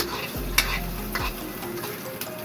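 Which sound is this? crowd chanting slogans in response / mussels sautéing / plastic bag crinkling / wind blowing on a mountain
mussels sautéing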